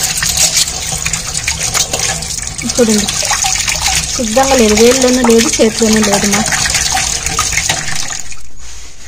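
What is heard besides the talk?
water poured while rinsing hair with soap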